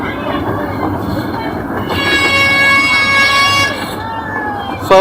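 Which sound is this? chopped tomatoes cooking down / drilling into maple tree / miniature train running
miniature train running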